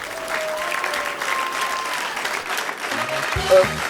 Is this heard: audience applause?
yes